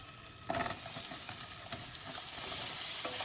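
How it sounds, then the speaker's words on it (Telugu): Paneer pieces drop into hot melted butter in a pan, setting off a sudden loud sizzle that settles into steady close frying. "బటర్ కాగాక పన్నీర్ ముక్కలు దాంట్లో వేసుకోవాలి."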